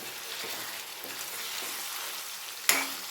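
Chicken pieces coated in garam masala frying in a pan, a dense steady sizzle close by, with faint stirring and one sharp metallic clink near the end; no voices.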